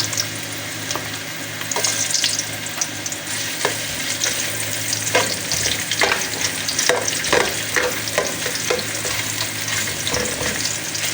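Ginger frying and being stirred in a pan, part of cooking chicken feet with malunggay: a steady close sizzle with repeated scraping stir strokes and clinks, no talking.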